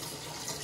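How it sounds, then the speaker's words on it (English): A kitchen tap runs steadily into a sink while leeks and green bell peppers are rinsed under it, a soft continuous splashing rush. "So what are you washing? Leeks and bell pepper."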